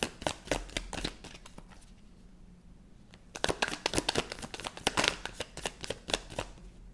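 Playing cards are shuffled in quick riffling bursts, a brief flurry early on, then a pause, then a longer run of sharp, close, crisp flicks and taps.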